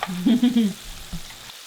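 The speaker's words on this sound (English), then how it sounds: "While the fish were frying up" Steady sizzling and crackling of fish frying in hot oil, close by, with a few louder bursts early on before settling.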